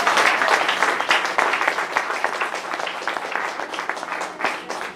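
Congregation applauding at a Christian church service, a steady, dense wash of many hands clapping continuously throughout, fairly loud and sustained with no break.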